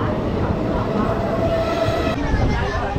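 A passenger train on its way to Azimganj pulls away, its rumble and faint rail clatter steady and fairly close, with a murmur of voices inside the carriage.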